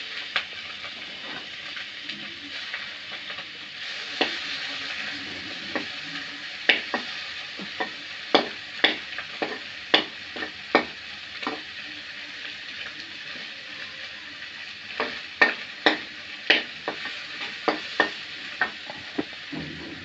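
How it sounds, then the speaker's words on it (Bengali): Fish and onions fry together in a pan, a soft steady sizzle broken by frequent sharp scrapes and clacks of a utensil stirring, close and fairly quiet. "এক সাইডে মাছ ভাজা হচ্ছে,"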